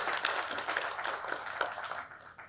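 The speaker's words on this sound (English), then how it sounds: "Can we have a huge round of applause for all our customers who are here?" Applause from the audience at a Justdial Business Excellence Awards event in Bhopal, a dense crowd of clapping hands that continues steadily, then fades slightly toward the end.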